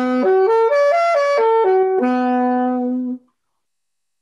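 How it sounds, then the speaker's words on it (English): A solo saxophone plays a quick run of chord tones stepping up and back down, then settles on a sustained low note for about a second before cutting off, close and clear with no talking. "I'm just going to play it on my saxophone and save some time."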